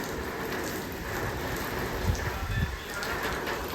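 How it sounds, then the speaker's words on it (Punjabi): Steady heavy rain with strong wind, pattering on surfaces, a dense continuous hiss with a few low thumps, no talking. "ਇੰਨਾ ਤੇਜ਼ ਮੀਂਹ ਆ ਗਿਆ"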